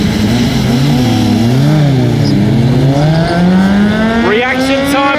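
A BMW and a bike called Jigsaw launch side by side in a drag race at Perth Motorplex, loud close engines wailing and climbing in pitch with rapid gear changes, with a commentator's voice over the racing noise.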